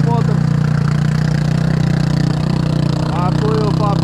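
Small Baltmotor outboard motor running steadily nearby, a loud continuous low drone with a buzzing hum, a few faint chirps over it.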